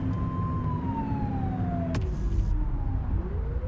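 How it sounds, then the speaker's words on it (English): Police car siren in the video game The Precinct, a wailing engine-backed tone sliding downward, cut by a sharp click, then a rising whoop under the steady rumble of a driving car. "Get on their tail and flip the siren."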